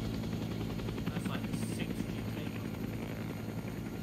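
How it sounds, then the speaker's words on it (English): A helicopter in the video game ArmA 3 S.O.G. flies nearby, its steady rotor thump and engine whine droning loud and continuous throughout. "Oh, there's helicopters over there."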